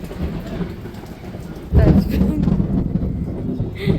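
Heavy rain pours steadily at Kanipakam, then a loud, deep rumble of thunder breaks in partway through and lingers. Faint voices sit under the downpour.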